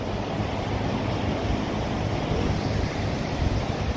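Surf rolls in steadily at Holtekamp beach in Jayapura, a continuous broad wash of breaking waves with wind buffeting the microphone throughout, no voices.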